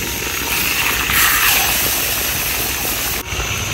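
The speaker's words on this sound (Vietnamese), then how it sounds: "Cuối cùng mình cũng đã đưa được mấy sư huynh chuột vô chảo dầu chiên rồi nè các bạn." Pieces of rat meat fry in a pan of hot oil with a loud, continuous close sizzle and hiss, steady throughout with a brief dip near the end.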